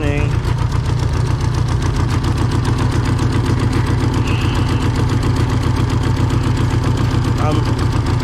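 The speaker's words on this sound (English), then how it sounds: "Turbo spinning." A restored 2G DSM Eclipse engine runs steadily with its turbo spinning, giving a loud, even mechanical drone with a faint higher whine riding on top, close and continuous throughout.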